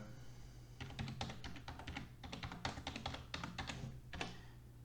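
Rapid typing on a computer keyboard while writing in Google Docs, a dense close run of key clicks in short bursts with brief pauses, quiet and alone.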